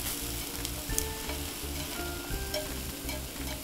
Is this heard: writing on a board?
no